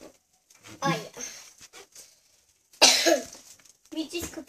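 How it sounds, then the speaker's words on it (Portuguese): A single sharp, loud cough from a young child bursts out in the middle, with fainter throat sounds and short vocal noises before and after. "eu tossi um pouquinho"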